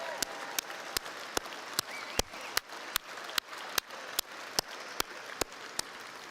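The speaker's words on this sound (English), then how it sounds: "join me in giving them a round of applause for their support" A commencement audience at a College of Arts and Sciences undergraduate ceremony applauds graduates' loved ones: crisp, evenly spaced claps stand out over a soft wash of crowd applause that continues steadily.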